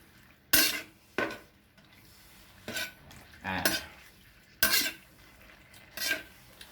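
Pork being stir-fried in a pan with little or no oil while a utensil scrapes and knocks against the metal: six or so sharp, close clattering strokes spaced about a second apart over a quiet background, with no talking.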